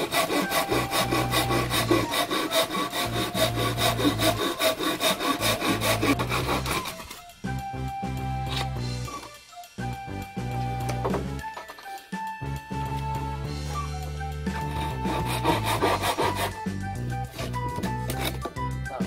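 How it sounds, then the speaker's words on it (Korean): A handsaw cuts wooden planks for an ice sled with rapid, rhythmic strokes, close and loud, pausing briefly midway before the sawing resumes. "위에 판자를 댈 곳을 두 장을 또 잘라서 맞춥니다"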